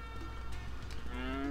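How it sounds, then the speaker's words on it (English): A cow in the Harvest Moon: Magical Melody video game lets out a steady, drawn-out moo over a humming game soundtrack, with no talking. "So, hello there, cow."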